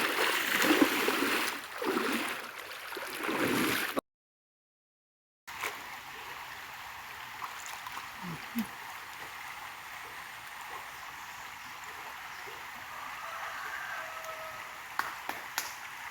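Steady rushing river water fills the first few seconds, then breaks off; afterward a quieter outdoor ambience follows with faint scattered splashes and clicks.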